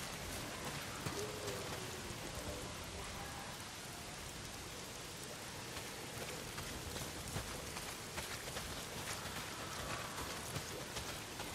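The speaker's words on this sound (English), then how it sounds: "Well, not if it's pissing down rain." Heavy rain pours down steadily in the video game Days Gone, a dense, even hiss of drops on surfaces with no voices, continuous and fairly quiet throughout.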